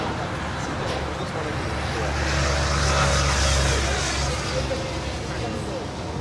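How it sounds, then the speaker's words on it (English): Delta Air Lines Boeing 757-200, ex-TWA, arriving at Los Angeles International as flight 446 from Boston: a broad, rumbling jet roar with a low drone that rises to a peak midway and eases off. "That is Delta Airlines, Flight 446, coming in from Boston. It's 757-200"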